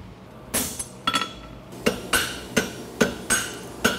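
A steel horseshoe bar is struck on an anvil during a farrier contest, about eight sharp ringing metallic clanks in an uneven rhythm, loud and close with no voices.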